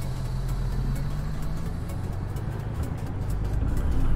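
Idling truck engine in American Truck Simulator, a steady low rumble and drone held at an even level throughout, with no talk over it.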